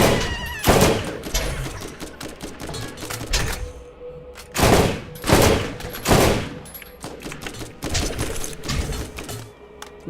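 Several loud bursts of gunfire in the Borderlands video game, separated by short gaps, with sharp close shots and a rattling, stuttering feel between them.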